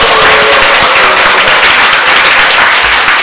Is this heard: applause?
yes